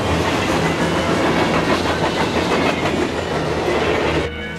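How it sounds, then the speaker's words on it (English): Train approaching on the tracks, a loud, continuous rumble and rattle of rail wagons with clickety-clack rhythm that holds steady, then drops off abruptly near the end. "The train is coming!"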